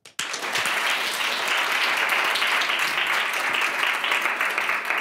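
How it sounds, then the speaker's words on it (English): Loud, sustained audience applause fills a hall right after a speaker named Stefan Leijnen is introduced at a talk on creativity in AI, steady clapping throughout with no voices. "Please, a round of applause for Stefan Leinen."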